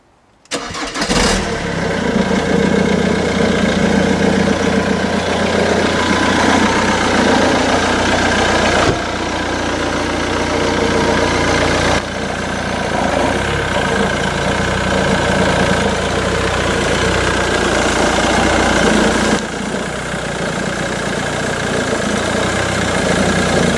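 A cold Jaguar X-Type engine cranks and catches, then settles into a loud, steady idle that runs on without a break, close up and with no voices over it.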